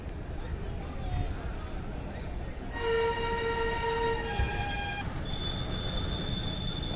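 Outdoor ambience outside Jabalpur railway station with a steady background hum, broken by a long two-tone train horn blast and a later high whistle.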